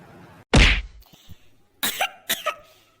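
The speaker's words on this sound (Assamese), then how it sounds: "মোৰ কিবা কাহ উঠি আছে দেখোন" A cartoon character gives a loud, sharp cough, followed after a pause by two more rough coughs, each close and distinct against quiet.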